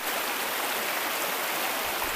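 A river flows steadily at a camping spot beside a hidden river along a road in Aguilar, Pangasinan, giving a continuous broadband rush of water with no talking.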